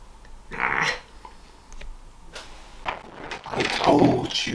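A dog barks and growls in a couple of loud, rough bursts, mixed with scuffling and clattering noises nearby.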